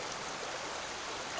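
Justus Creek, a mountain stream along the Appalachian Trail, rushes in a steady, broadband wash that stays close and constant, with no voices over it.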